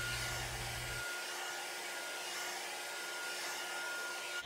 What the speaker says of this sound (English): I cannot tell you right off the bat what kind of blow dryer that is